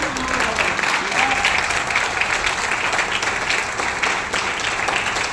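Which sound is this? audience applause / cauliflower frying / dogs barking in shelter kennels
audience applause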